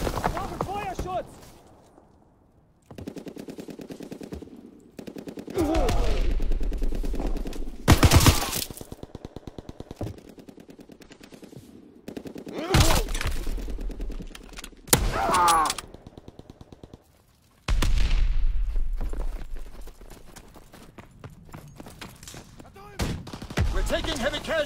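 Bursts of gunfire from a Call of Duty WWII match, rifle and machine-gun volleys arriving in loud clusters separated by brief lulls, with players talking over the action.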